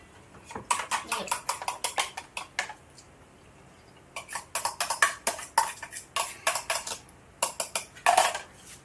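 A spoon or whisk clinks and scrapes against a bowl as pancake batter is stirred, in quick bursts of rhythmic taps with short pauses, with faint talking beneath.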